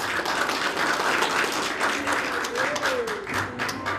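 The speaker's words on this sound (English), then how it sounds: "everybody clapped" An audience claps together after a request for approval, a steady dense patter of hands filling the whole stretch, with a few faint voices mixed in underneath.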